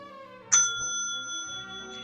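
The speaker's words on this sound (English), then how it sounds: "When you hear the bell," A single bright bell ding rings out clearly and lingers with a long, fading tone.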